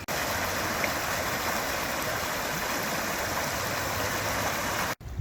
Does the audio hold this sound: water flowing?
yes